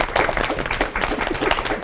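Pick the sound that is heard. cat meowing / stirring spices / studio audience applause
studio audience applause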